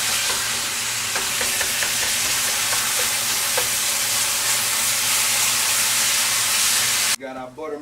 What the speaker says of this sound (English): We got our butter melting in here. I got it under like a somewhat of a low heat.